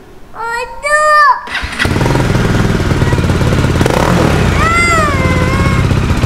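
A Bajaj Dominar 400 motorcycle with a barrel exhaust starts up after a voice, settling into a loud, steady, throbbing idle close by while people talk over it.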